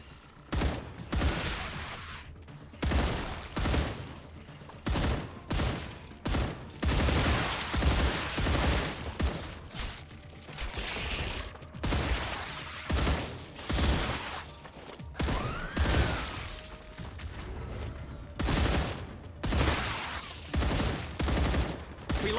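Gunfire in the video game StarRupture keeps up in repeated rapid bursts, with sharp shots and steady volleys across the whole stretch, and mechanical clicks and creaks between them.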